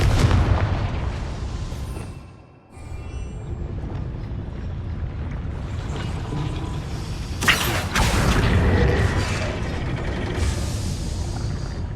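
A Confringo fire spell detonating in the video game Hogwarts Legacy: a dense rumbling blast with a sharp broadband burst near the middle, set within continuous game effects and ambient noise, with no talk.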